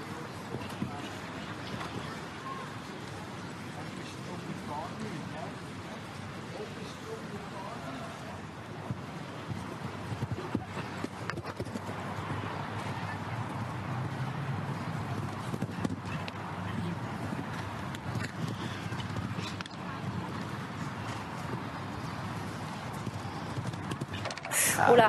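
A mare's hoofbeats thud faintly on a show jumping course at the St Gallen Nations Cup as she approaches a water jump, heard beneath continuous commentary and wind.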